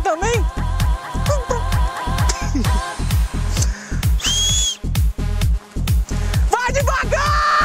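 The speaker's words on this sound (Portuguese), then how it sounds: "Eu arrumei um apito lá, rapaz." A hand whistle is blown repeatedly in short, rhythmic blasts, loud and close, over a dense, busy background with pulsing low thumps.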